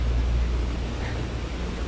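Steady low wind roars outside, a dense, continuous rumble with a faint hiss above it and no voices.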